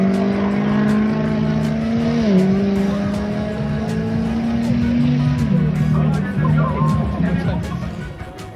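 Tuned car known as the 1000tilpa revving and re-accelerating on a parade lap at a tuning show, engine pitch rising and falling in steady loud sweeps, with crowd noise and someone talking over it.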